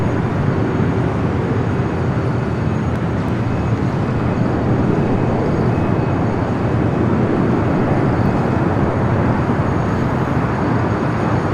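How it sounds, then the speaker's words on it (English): An Airbus A321 airliner rolls down the runway at LAX, a loud, continuous broadband roar of jet engines with no break in level. "A321 rolling down to 24 left"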